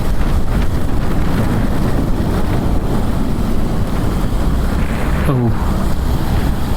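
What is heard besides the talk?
wind while riding a motorcycle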